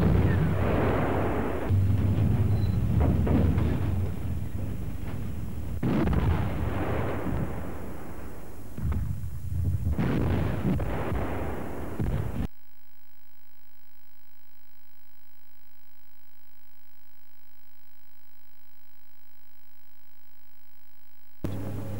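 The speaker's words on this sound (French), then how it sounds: "beschoss schwere Artillerie des Heeres mit beobachteter Wirkung kriegswichtige Ziele der Stadt" Heavy army artillery fires on Leningrad in 1942 wartime newsreel footage, a loud rumbling barrage of booms and blasts for about twelve seconds before the sound cuts to near silence.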